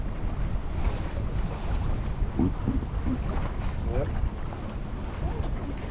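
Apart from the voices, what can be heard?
wind gust blowing on a sailboat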